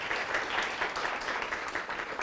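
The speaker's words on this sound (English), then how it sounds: "give them another round of applause" An audience at a morning academic conference on social networks and health gives a round of applause, dense steady clapping that carries on throughout.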